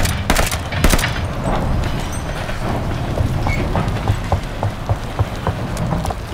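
Sustained gunfire in Call of Duty: Vanguard during a train fight on the road to Hamburg, dense rapid shots and crackling bursts throughout, loud and close, with no talk.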